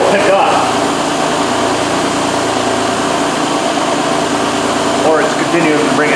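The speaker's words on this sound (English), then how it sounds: "You should hear the idle pick up." Up close, a Ford Escape with an idle air control overspeed fault (P1506) idles with a loud, steady, continuous engine hum throughout.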